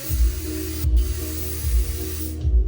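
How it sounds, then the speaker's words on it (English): WD-40 hisses from an aerosol can onto plastic-coated stickers in a loud, close, continuous spray with a rhythmic pulsing, ending abruptly. "I'm gonna try some of this WD-40 on these stickers"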